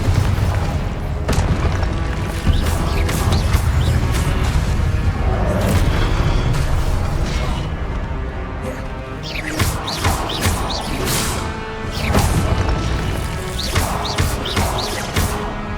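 Spell blasts and explosions in the video game Hogwarts Legacy, a dense, loud run of booms, crashes and impacts with battle effects throughout.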